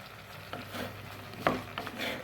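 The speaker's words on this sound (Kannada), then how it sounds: "ಈಗ ಇದನ್ನು ಇನ್ನೊಮ್ಮೆ ತಿರುಗಿಸ್ಕೊಳ್ತಿದ್ದೇನೆ" A spoon stirs sambar in a pot with oil, turmeric and asafoetida, giving a few soft scrapes and light clinks over a faint background sizzle.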